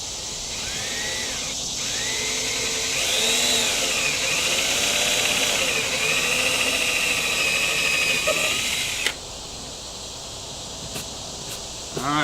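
Power drill whining at high pitch as it bores a hole through the fiberglass hull of a bass boat, the tone rising and falling under load for several seconds before cutting off abruptly.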